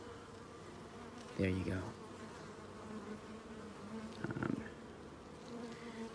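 Honeybees, some sick with a virus, buzzing faintly over a quiet hum, with two brief closer buzzes standing out; a person speaks briefly.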